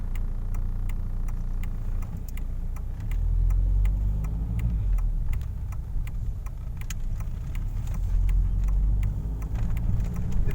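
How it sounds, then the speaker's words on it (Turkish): A Volkswagen Passat 1.9 TDI Comfortline diesel car drives along a road with a steady engine drone and low rumble, rising slightly as it picks up speed, with faint ticking throughout. "biraz hız testi denemesi yapacağız aracımızda şimdi"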